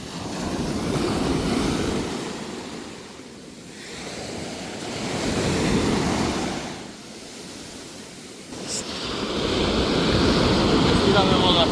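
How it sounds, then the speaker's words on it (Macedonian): Small sea waves wash onto an island beach in slow surges that rise and fall about every three seconds, loud and close, with wind rumbling against the microphone throughout. "Има бранчиња, ама интересно е,"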